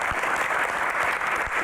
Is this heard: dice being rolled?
no